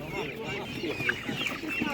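Hens and young roosters for sale at a market cluck in short, overlapping bursts, a busy flock chattering close by without pause.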